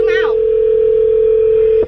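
A phone dial tone sounds during an outgoing call, a single steady pure hum held loud and unbroken for almost two seconds before cutting off, with a brief voice at the start.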